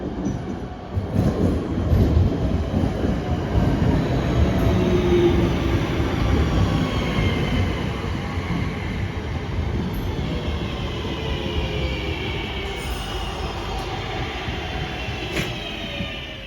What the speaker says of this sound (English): why is there a train, a northern train going to Manchester?